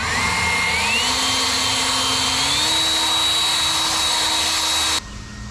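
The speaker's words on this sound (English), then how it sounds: "This thing works freaking like a dust storm going on over here." A MAXPEEDINGRODS cordless leaf blower running loud and close, a steady high whine that climbs in pitch in steps as it speeds up, then drops abruptly near the end.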